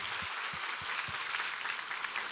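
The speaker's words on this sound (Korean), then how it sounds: "우리 하나님께 감사와 영광의 박수 올려드리겠습니다." Church congregation applauding together during a Korean sermon service, a steady sustained wash of many hands clapping at moderate level, with a few low thumps underneath and no speech.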